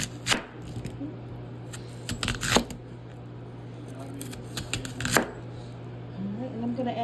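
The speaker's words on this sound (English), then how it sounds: "we got some potatoes going right here and back. Let's get this cut." Potatoes being cut with a knife for a home dinner, a few sharp close chops spaced seconds apart over a low steady hum.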